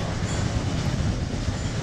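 A Welsh Highland Railway train to Caernarfon rumbles along with a steady, close mechanical roar and faint rhythmic wheel clatter, with no voices.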